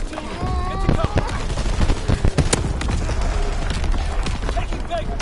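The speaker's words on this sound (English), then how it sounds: "Incoming enemy artillery." Dense gunfire and heavy blasts from an enemy artillery barrage in Call of Duty WWII on the Shipment map, with rapid overlapping shots and booms throughout, under voices talking.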